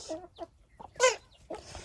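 Chickens cluck close by in short, separate bursts, with a louder squawk near the middle and no voices over them.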